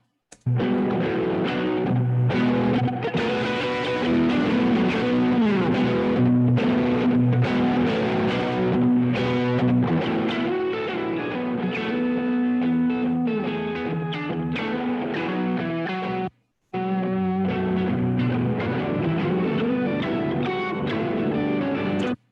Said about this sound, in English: That's really interesting with the octave. You're getting pitched distortion.